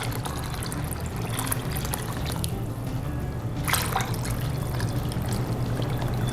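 Water from two cans poured into an Instant Pot over dried kidney beans and canned tomato sauce, a steady close splashing stream running throughout with a brief brighter gush partway through.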